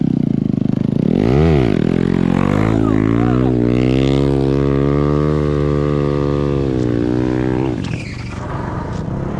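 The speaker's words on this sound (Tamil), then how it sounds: "இவர் பார்த்தீங்கன்னா அப்பாச்சி 200 வச்சுருக்கிறாரு பாருங்க. இப்போ வந்து நமக்காக வீலி பண்ணி காட்ட போகிறாரு" A TVS Apache 200 stunt motorcycle revs hard and holds a high, steady engine note through a wheelie, the pitch rising and sustaining loudly up close before dropping off near the end.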